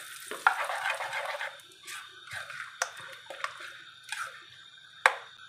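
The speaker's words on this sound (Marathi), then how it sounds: "आपण हे मिश्रण मिक्स करून घेऊया।" A spoon works a tempering into moong dal idli batter, with wet, squishy stirring strokes in an irregular rhythm, close and fairly soft, with no talking.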